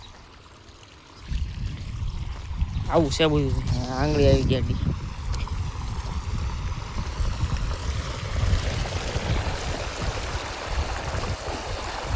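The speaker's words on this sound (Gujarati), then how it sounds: "પાણી ચાલુ છે." Running water flows steadily outdoors on a farm, a continuous close rushing that starts suddenly and holds to the end, with someone talking over it for a few seconds.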